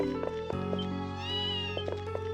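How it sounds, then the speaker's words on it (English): A cat meows clearly in the video game Ys Seven, a short, close mew over steady game music and ambient tones. "Kitty."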